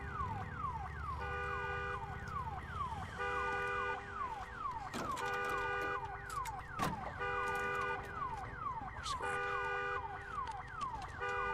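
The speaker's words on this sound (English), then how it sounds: "Damn alarm." A car alarm in the video game Days Gone wails in repeating sweeping tones, with overlapping siren-like whoops and occasional sharp bangs, loud and continuous throughout.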